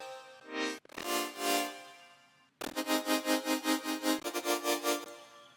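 A straight sawtooth patch from the Serum synthesizer in a future bass track, with modulation and a Hyperdimension expander, gives buzzy, bright chords that swell and pulse rhythmically, one brief stab then a longer wobbling passage, moderately quiet with no talking.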